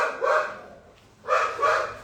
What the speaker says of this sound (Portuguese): cachorros latindo.